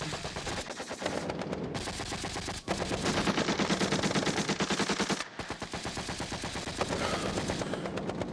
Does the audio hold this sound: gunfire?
yes